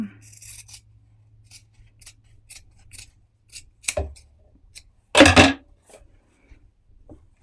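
Scissors trimming fabric for a child's dress, a series of crisp, close snips spaced irregularly, ending with one louder, longer cut, in an otherwise quiet room.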